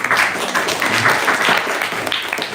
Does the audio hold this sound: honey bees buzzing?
no